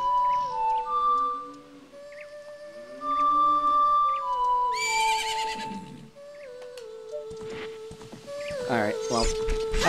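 Epona, a horse in Zelda: Ocarina of Time, gives a bright, whinnying neigh amid chiming game music and sound effects, with a voice talking over parts of it.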